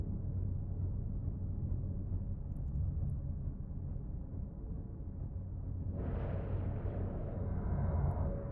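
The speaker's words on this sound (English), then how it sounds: "The explosion of the beacon is such an amazing sound." Deep, rumbling blast of a beacon exploding in EVE Online, a low sustained roar that swells with a brighter burst about six seconds in and keeps booming to the end.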